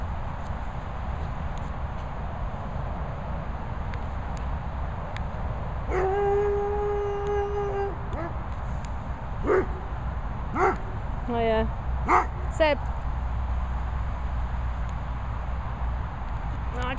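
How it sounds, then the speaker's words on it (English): Dogs (a Bichon, a Vizsla and a Weimaraner) indoors let out a drawn-out howl followed by several short barks and yelps, moderately loud over a steady background hum. "Got dogs."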